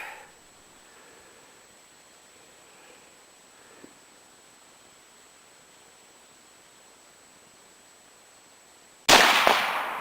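An old Japanese rifle fires a single loud shot near the end, sharp and close, after several seconds of quiet outdoor hiss.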